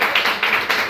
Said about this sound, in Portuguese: Podemos aplaudir ao Senhor pela vida